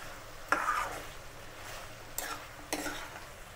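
Mutton being stirred with salt in a cooking pan: three distinct scraping strokes of a spoon against the pan over a faint, low sizzle, quiet and close, with no talking.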